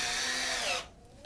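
A power drill whines steadily as it drives 2.5-inch screws into the wooden leg of a sawbench, then cuts off abruptly, leaving a faint hum behind.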